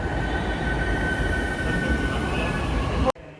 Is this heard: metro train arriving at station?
yes